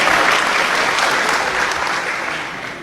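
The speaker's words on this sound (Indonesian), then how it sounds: "Boleh tepuk tangan sekali lagi buat Rahma" Sustained audience applause at an Indonesian campus discussion after a high school student introduces herself, broad steady clapping that fills the room and gradually tapers near the end.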